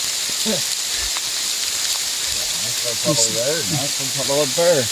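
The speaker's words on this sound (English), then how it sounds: "the rain has gotten a lot harder since we got here" Heavy rain falls steadily through a forest at Devil's Washboard, a constant broadband hiss of drops on leaves, with people talking briefly over it.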